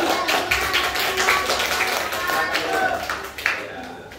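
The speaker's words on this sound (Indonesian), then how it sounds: "Tepuk tangan dulu nak." Students in a classroom clap their hands together, a short burst of uneven, fairly close clapping from a small group, with some voices mixed in.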